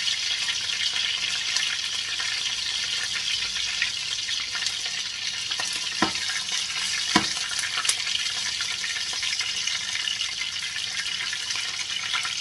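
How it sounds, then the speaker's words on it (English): Chicken thighs frying in a bubbling British Indian Restaurant curry base gravy for a Madras over low heat, a steady close sizzle with a couple of sharp pops and spatters partway through. "That's bubbling away in there, it's only on a low heat. I'll drop the thighs in first."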